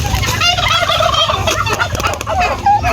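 A flock of young turkeys, about four months old, gobbles nonstop while being released, a loud, crowded overlapping chorus right up close.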